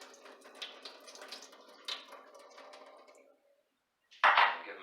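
Boiled sweet potatoes are drained in the kitchen, with soft clinks and knocks of a pot and lid, a brief silence, then a sudden loud gush of water pouring out.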